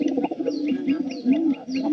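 Close, insistent cooing from a pigeon near its nest of three chicks, a continuous string of low throaty calls with light chirps overhead.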